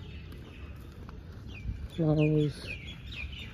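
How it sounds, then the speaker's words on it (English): Birds chirp in a series of short, repeated calls during a morning walk around a South Asian University campus, with a person talking nearby and a brief lower call in the middle. "You can hear the sound of the birds"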